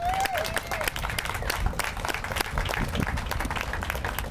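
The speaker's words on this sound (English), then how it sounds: "So let's give them a round of applause." Applause from a crowd at an outdoor park trails celebration, moderately faint and continuous, with scattered voices.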